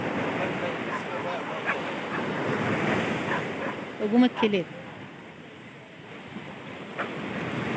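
Sea waves wash onto the shore in Alexandria, a steady surf roar with wind buffeting the microphone, while people talk nearby throughout.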